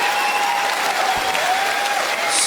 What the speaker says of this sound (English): You applauded for beaver tails.